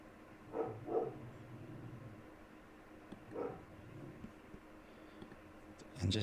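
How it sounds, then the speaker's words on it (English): A dog barks faintly in the distance, a couple of short bursts a few seconds apart, over a quiet background hum. "You guys hear my dog barking?"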